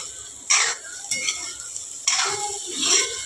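Brinjal (eggplant) stir-fried in a pan with garlic, peanuts, green chillies, coriander, salt and turmeric, giving two bursts of scraping and sizzling close by over a low steady background hiss.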